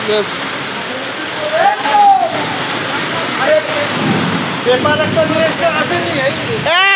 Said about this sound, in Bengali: বৃষ্টি আসছে, বৃষ্টি আসছে